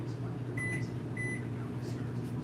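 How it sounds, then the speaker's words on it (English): A microwave oven hums steadily while heating honey and butter for a homemade pizza topping, with a couple of short high beeps early on and faint talk in the background. "I'll put that in the microwave"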